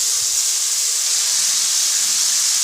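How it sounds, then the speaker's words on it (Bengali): Potatoes with green chillies frying in a pan, a loud steady hiss of sizzling oil close up with no pauses. "আলুটা ভেজে নেব"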